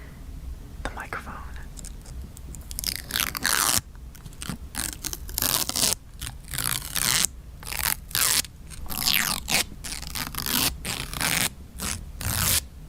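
Plastic protective stickers peeled off the buttons of a Razer Panthera Evo arcade stick, close up: repeated scratchy peeling rips in quick bursts, with someone speaking softly over them.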